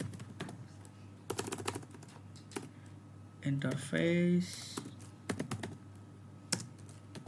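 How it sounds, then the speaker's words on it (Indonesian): Typing on a computer keyboard while entering router interface commands in a terminal, scattered close keystrokes throughout, with a brief spoken phrase mid-clip over the clicks. "Kita ketik interface"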